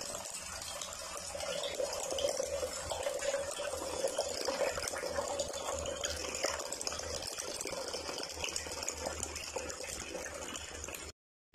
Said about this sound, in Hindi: अब इसको जो है ना हम 2 से 3 पानी में अच्छी तरह धो लेंगे।